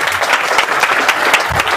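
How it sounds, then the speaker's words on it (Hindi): Seminar audience at a business coaching event claps in a dense, close burst of applause that continues throughout the short stretch. "एक बार ताली बजाइए"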